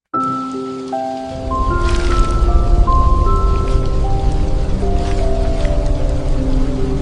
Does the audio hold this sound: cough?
no